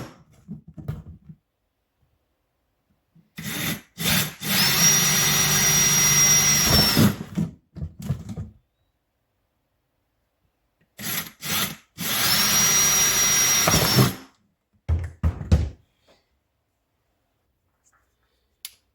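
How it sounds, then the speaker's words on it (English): A power drill running in drill mode during a DIY build of a side-mount chicken waterer, with two long steady whirring bursts of a few seconds each, framed by short trigger blips and clicks, close and loud with no talking. "Let me switch it to drill mode here."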